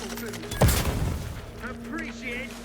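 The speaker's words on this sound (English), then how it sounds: "who is that guy lobbing grenades?" A thrown grenade in The Outer Worlds 2 bursts with one heavy, booming explosion that rumbles off, surrounded by quieter combat noise and talking.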